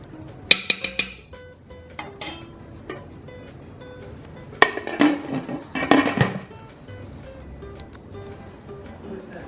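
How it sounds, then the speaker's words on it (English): A metal spoon clinks against a crockpot while stirring beef and broccoli, giving a few bright taps early and then a busier cluster of scraping clinks, with a person talking over it. "So I'll just give it a stir"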